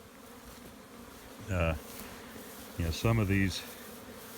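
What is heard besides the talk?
honey bees flying at the hive entrance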